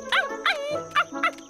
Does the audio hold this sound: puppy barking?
yes